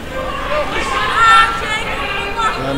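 Spectators at a boxing show at Liverpool's Olympia keep up a lively chatter and shouting, with one brief louder swell, under a voice talking throughout.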